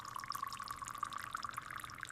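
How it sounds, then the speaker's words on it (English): Coffee pouring into a cup makes a soft, continuous trickling stream of liquid, faint and steady, with no voices. "I pour my coffee."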